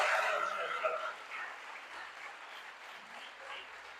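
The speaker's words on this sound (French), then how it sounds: "applaudissez pour eux" A church audience applauds after a birthday song, a fairly soft, distant patter of clapping with a few raised voices that gradually thins out.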